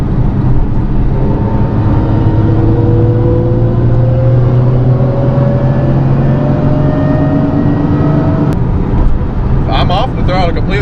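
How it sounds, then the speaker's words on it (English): A Nissan 350Z with a welded differential drives at about 50 mph under throttle, a continuous loud drivetrain drone and whine with rising tonal lines heard from inside the car. "My diff decides that it wants to make the worst noise known to mankind."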